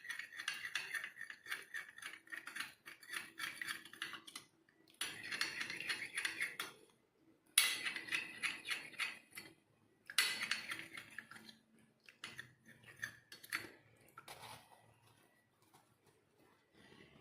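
A spoon scrapes and clinks inside a small cup as it mixes cornflour into a face pack, in several bursts of quick scratchy stirring separated by short pauses, with no talking.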